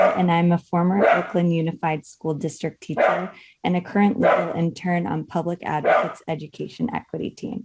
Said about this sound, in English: excuse my puppy barking in the background if you hear him